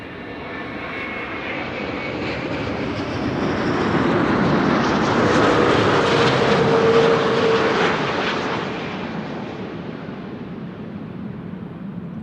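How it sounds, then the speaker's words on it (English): A Delta Airbus A330neo, flight 162 from Minneapolis, Minnesota, roars in on arrival at Amsterdam Schiphol, a broad jet rumble swelling to a loud peak mid-pass and then easing off without fading away. "Delta arriving from Minneapolis, Minnesota, A330neo, flight 162"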